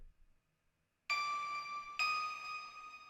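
Melodic synth-like tones with two sharp attacks, each ringing into a long, lush reverb tail from a Valhalla plugin with roughly three seconds of decay, bright and sustained with no voices.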